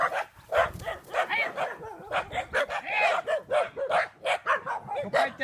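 A pack of stray dogs in Thailand, some treated for mange, barks in rapid overlapping bursts close by, loud and continuous, with yips mixed in and no talk.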